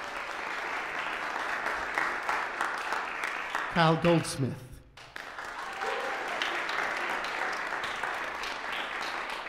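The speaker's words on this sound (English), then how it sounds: "How about a round of applause?" A concert audience applauds seniors in a university percussion ensemble with dense, steady clapping. Near the middle a brief musical flourish breaks through, and a voice speaks over the applause.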